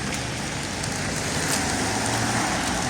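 Steady rain falling on a street in Oleksandriia in October, a constant dense hiss with low traffic rumble underneath, fairly close and even throughout, no talking.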